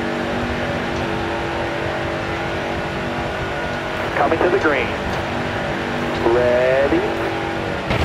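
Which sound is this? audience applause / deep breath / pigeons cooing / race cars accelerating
race cars accelerating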